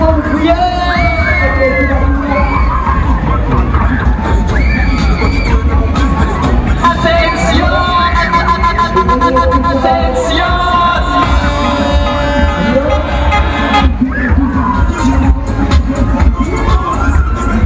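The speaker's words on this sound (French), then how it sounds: "faites-moi du bruit," A fairground crowd on the Magic Twist ride at a French funfair screams and cheers loudly and continuously, a dense wall of shouting and whooping voices with no pause.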